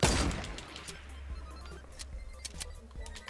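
Gunfire in Fortnite Battle Royale, a sharp blast at the start followed by a scattering of quicker, fainter shots and clicks over a low game hum.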